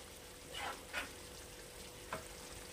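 Chicken chaap mixed with grated khoa kheer in a pan, a soft steady frying sizzle with a few brief scraping stirs, fairly quiet and close.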